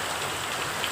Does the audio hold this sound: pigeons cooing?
no